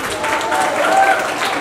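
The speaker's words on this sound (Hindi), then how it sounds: "तालियां तो बनती है जी।" An audience applauding at an annual day event, a short loud burst of dense clapping that is mixed with voices.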